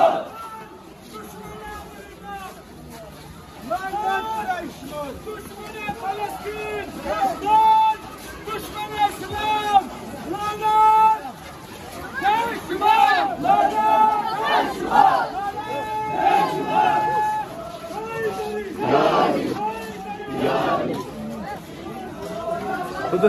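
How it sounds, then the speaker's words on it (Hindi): Large crowd chanting at a Quds Day rally at Bemina Khumani Chowk in Kashmir: many loud voices shouting slogans in repeated rhythmic bursts, with crowd chatter and hubbub between them. "दोस्तों आप देख सकते हैं कि रैली कितनी बड़ी है"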